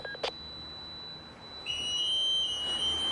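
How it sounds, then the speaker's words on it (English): An indoor alarm sounds during a night ghost hunt at a cemetery: after a quiet pause and a brief knock, a faint high-pitched electronic beep starts and holds as a steady, thin tone to the end. "It's the alarm!"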